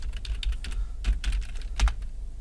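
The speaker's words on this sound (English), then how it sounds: "type my password" Password being typed on a computer keyboard while setting up a CentOS cloud server, heard as quick, close clicking keystrokes in irregular bursts with a couple of heavier key presses, with no talking.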